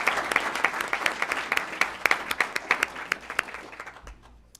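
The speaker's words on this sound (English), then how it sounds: "So let's have a round of applause for these amazing accomplishments." Applause from the audience at a school board of education meeting, a steady patter of many hands clapping that holds for several seconds and then thins out and fades.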